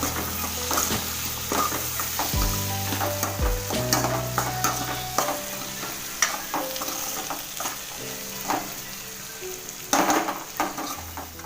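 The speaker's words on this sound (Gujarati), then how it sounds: "તો આ રીતના આપણે એને હલાવી લઈશું કેમ કે આપણો ચેવડો હવે સરસ મજાનો ચડી રહ્યો છે." Sweetcorn chevdo sizzles gently in a pan while a spoon scrapes and stirs through it in repeated close strokes, with occasional light clinks against the pan.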